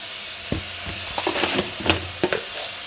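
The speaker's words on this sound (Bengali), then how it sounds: "একটু ভালো করে ভেজে নেব, মাশরুমগুলো সিদ্ধ হবে" Mushrooms fry in a pan with a soft, steady sizzle, broken by several sharp utensil scrapes and clacks as they are stirred, close by and with no talking.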